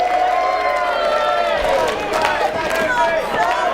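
A darts match crowd at the World Championships cheering and applauding after a 180, loud roaring and clapping throughout with a commentator talking over it.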